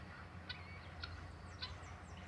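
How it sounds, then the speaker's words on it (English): Dengala chickens, seen in a group, give a few short chirping calls at a moderate distance, spaced roughly half a second apart over a steady low background rumble. "Dengala chicken."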